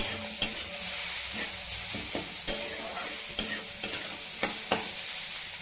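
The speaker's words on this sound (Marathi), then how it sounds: "बटाटा साईडला सरकून मिरची तेलात तळून घेऊ" Green chillies frying in hot oil in a pan beside potatoes, a continuous soft sizzle with several sharp clicks and scrapes of stirring, close and fairly quiet.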